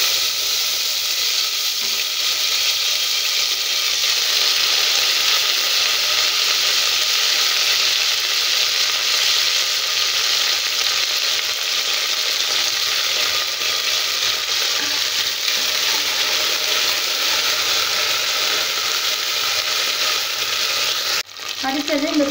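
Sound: coriander and mint leaves frying in a pan for mushroom biriyani

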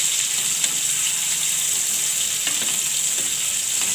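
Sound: cucumber frying in oil

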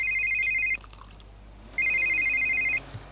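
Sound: telephone ringing in The Sims 3 video game

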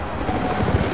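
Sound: helicopter approaching in video game Rise of the Tomb Raider

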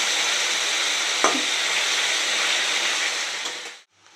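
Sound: potatoes frying in hot oil in a wok

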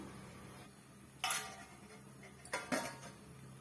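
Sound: lid put on pot of boiling rasam

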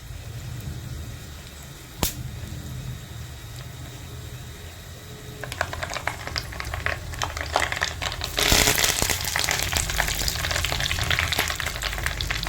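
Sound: frying tempering of whole chillies, fenugreek, mustard seeds and curry leaves

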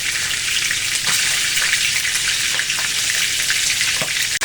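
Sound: mackerel frying in hot oil, splattering

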